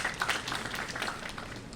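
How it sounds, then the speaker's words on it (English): Brief, fairly faint applause from a gathered audience, an even wash of clapping that holds steady and then starts to fade. "So they deserve a good applause."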